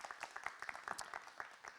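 A small audience applauds a slam poetry performer on stage, a brief patter of scattered claps, faint and somewhat distant.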